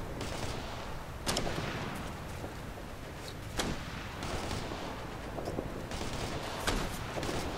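Gunfire in the military shooter game Operation Flashpoint: Red River, a dense continuous roar of rifle and heavy weapon fire with several sharper loud cracks standing out, close and unbroken throughout.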